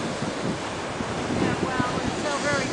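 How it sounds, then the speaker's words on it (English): Atlantic Ocean surf rolling onto the beach at Long Beach Island, New Jersey, a loud continuous wash of breaking waves with steady wind buffeting the microphone throughout. "The Atlantic Ocean. Look at that wave."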